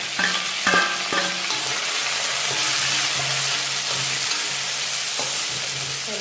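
Vegetables sautéing in a pan, an even, steady sizzle throughout with a few clanks and scrapes of stirring near the start, close by and without speech.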